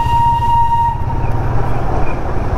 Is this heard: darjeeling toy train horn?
yes